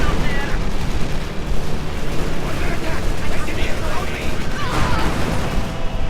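A bridge being blown up in Company of Heroes 2, a World War II strategy game, with dense rumbling explosions and gunfire in a continuous loud battle din, and a voice talking over it.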